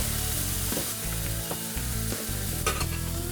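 Wild boar steak seasoned with steak seasoning sears in a pan in the galley of a 41 ft sailboat. It makes a steady loud sizzle, broken by occasional scrapes and clinks as it is stirred.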